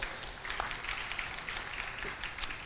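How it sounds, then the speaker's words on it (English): A conference audience claps for a departing speaker: a brief, even wash of applause across the hall, moderately quiet and fairly distant. "please give him another round of applause"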